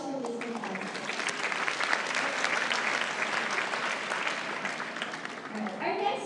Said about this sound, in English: Again, round of applause for Mr. Fausto.